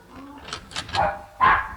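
A dog barks a few times in a 1962–63 radio comedy, the sharp barks separated by short pauses, with some talk alongside.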